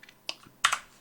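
A few quick, light clicks of computer keys while 3D modeling a bowl, close and crisp, with a short pause between taps in an otherwise quiet room.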